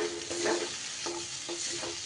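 Spice masala being stir-fried in a pan for a spicy cauliflower dish, with steady sizzling and repeated scraping strokes of a spatula, close and alone without talk.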